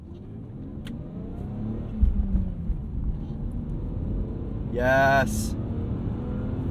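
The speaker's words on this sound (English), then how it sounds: "It's good to rev a BMW out, blow all that carbon out, and make sure that it's still running smoothly." The engine of a high-mileage BMW E46 323i manual sedan revs up while driving, its tone sweeping and rising briefly over a steady motor drone, with someone talking throughout.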